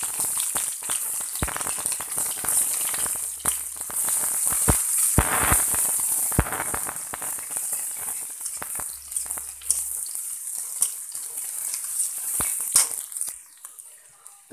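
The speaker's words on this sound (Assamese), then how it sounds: "মোৰ তেলটো এতিয়া গৰম হৈ গ'ল, মই ইয়াত দি দিম এটা পিঁয়াজ" Long-sliced onion fries in hot oil in a home kitchen, a bright steady sizzle with intermittent scraping and clattering of a spatula against the pan.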